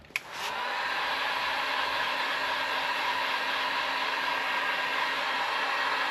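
A heat gun switches on with a click and settles into a steady, even blowing whir while warming vinyl wrap being stretched around edges, a constant close airflow drone with no speech.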